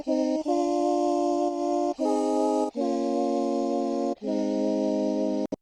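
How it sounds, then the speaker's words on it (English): Chords played on a sampler patch built from a woman's sung vocals, four or five sustained chord changes with brief gaps between them, moderately loud and alone. "this simpler patch, which is actually my sister's vocals"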